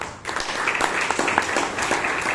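An audience at a Toastmasters meeting in Bangalore claps steadily, a dense patter of many hands throughout.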